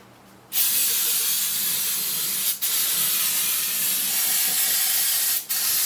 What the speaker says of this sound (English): So I'm just going to wash her down with some brake clean.